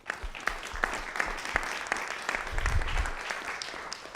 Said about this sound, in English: Next, a round of applause for that group.